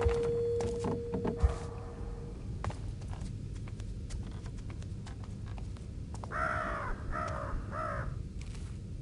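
Crow-like caws in the stealth game Thief, three or four harsh calls in quick succession toward the end, heard over a busy in-game ambience with clip-clop footsteps.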